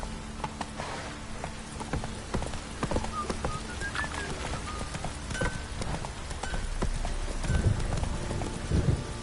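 In the Witcher 3 video game, the horse Roach gallops with rapid clip-clopping hooves over a rainy, ambient backdrop, a steady rhythmic drumming of hoofbeats at moderate volume.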